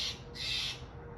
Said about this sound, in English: Boy, that bird is annoying.